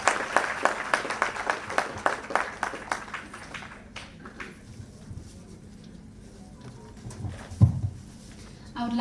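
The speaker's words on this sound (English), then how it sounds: "A big round of applause for our chief guest today." Audience applause at a classical dance recital event, a burst of loud clapping for the chief guest that gradually thins out and fades, leaving quieter room noise with a brief thump near the end.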